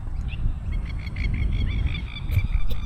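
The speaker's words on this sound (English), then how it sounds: "The nice ducks." Ducks on a farm dam give a run of short, repeated honking calls, moderately close, over steady low outdoor rumble and wind, with no talking.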